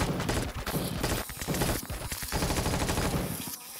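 Heavy machine-gun fire in Empyrion Galactic Survival, a near, loud stream of rapid shots in sustained bursts that briefly ease off near the end.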